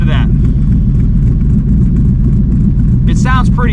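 A Ford Coyote V8 running a cam tune in a Cobra Daytona build rumbles loudly and continuously at close range with a raucous, uneven idle, and a voice speaks briefly near the end.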